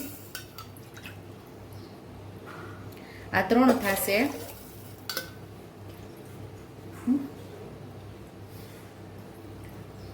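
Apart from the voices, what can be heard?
water poured from a bowl into a khichdi pot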